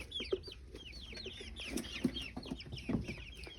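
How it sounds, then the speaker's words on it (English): Baby chicks in an indoor brooder chirp and peep in a busy overlapping chorus, many small birds calling close by with soft clucks, no voices. "This is my interior chicken brooder. I have my babies in here that aren't quite big enough for the larger chickens."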